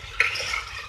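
A utensil stirs chicken pieces frying in oil in a pot, giving a single scraping clatter near the start over a steady low sizzle, with no talk.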